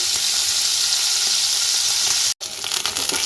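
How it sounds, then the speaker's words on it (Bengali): Small tengra fish frying in hot oil, a loud continuous sizzle and crackle close up, broken by one brief silent gap before resuming. "ট্যাংরা মাছ খুব বেশি ভাজবো না, একটু অল্প করে ভাজবো"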